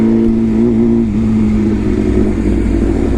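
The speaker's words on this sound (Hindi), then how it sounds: "तो प्रमोद एनएस में देख लो भाई व्हीली मार रहा है।" A Bajaj Pulsar NS motorcycle revs hard during a wheelie, its engine holding a loud, steady droning note that dips slightly in pitch partway through, close and continuous with no voices.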